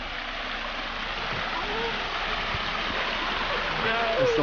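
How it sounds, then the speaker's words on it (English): Water pours steadily off a limestone boulder with deep crevices into a recreational pond, a continuous close rushing splash with gurgling that holds an even level throughout. "here we go with the left side waterfall"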